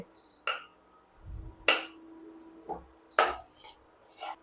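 Homemade ghee is stirred continuously in a metal pot on the stove, giving sparse, quiet metallic scrapes and clinks of the utensil against the pot.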